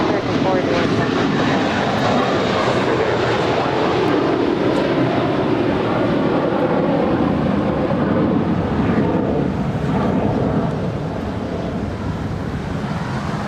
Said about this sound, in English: That was American Airlines Flight 481 departing to Philadelphia. It's an Airbus A321.